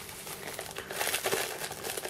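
Plastic bag from a 1:48 T-90 tank model kit crinkling continuously up close, holding glue, a small electric motor, parts, battery terminals and gears, with steady rustling and brief sharper crackles throughout and no voices.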